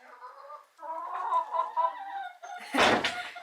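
Chickens cluck and murmur close by in a short, uneven burst, ending with a sharp rustling noise.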